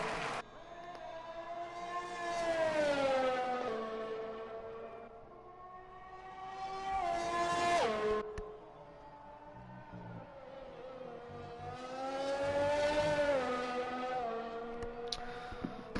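Onboard engine of an F2 race car lapping Suzuka in Japan in a racing video game, the high whine rising and falling through gears and corners in three long swells, steady and close.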